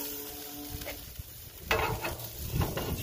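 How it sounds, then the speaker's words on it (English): Steady sizzling of cheese frying on a hot Blackstone griddle, with a few scraping and stirring noises from a spatula partway through. "It's frying up pretty nice."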